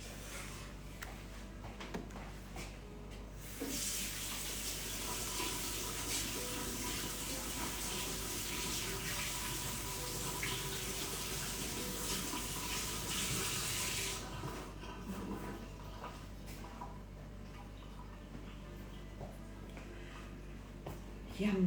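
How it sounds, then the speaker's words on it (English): Water runs steadily from a kitchen tap as hands are washed beneath it, a broad continuous splashing rush lasting roughly ten seconds before shutting off, with quieter handling sounds and room noise on either side. "I'm just going to wash my hands."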